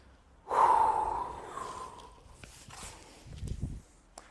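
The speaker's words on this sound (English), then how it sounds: "In between each repetitions, take a few deep breaths." A person takes deep breaths between capoeira exercise repetitions, a loud forceful exhale like a snort near the start followed by softer breathing and shuffling movement, close to the listener.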